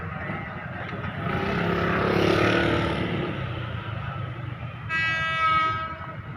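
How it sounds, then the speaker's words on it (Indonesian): A KRL commuter train departs a station toward Jakarta Kota, its rumbling motion swelling loud and then easing, followed by a short horn blast near the end. "Kita sini keretanya mau berangkat nih."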